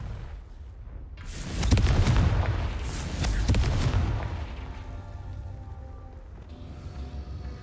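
Confringo explosive spell blasts in the wizarding game Hogwarts Legacy, two heavy booming bursts close together with a rumbling tail that fades into low ambience.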